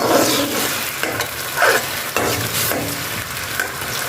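Chopped onions frying in a pan for tinday gosht are stirred with a utensil, producing repeated close scrapes and clatters over a continuous loud sizzle, with no voices.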